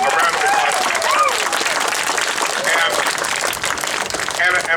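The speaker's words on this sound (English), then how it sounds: "A round of applause." Audience applause fills a school ceremony, dense sustained clapping from a crowd at steady loudness, with voices mixed in beneath it.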